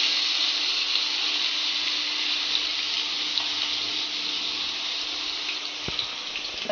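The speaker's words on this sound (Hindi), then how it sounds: "अभी तेल गर्म हो गया है, हम पहले इसमें प्याज डालेंगे।" Onions going into hot oil for a potato chutney: a steady, loud, even sizzle holding throughout with no talk, a brief tap near the end.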